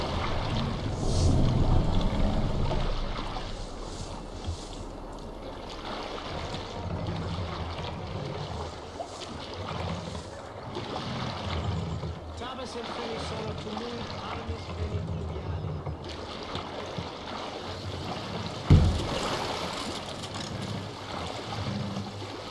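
A Viking longship moving over the waves in the Assassin's Creed Valhalla video game, a continuous wash and slosh of water around the hull with a brief splash near the end, while voices talk over it.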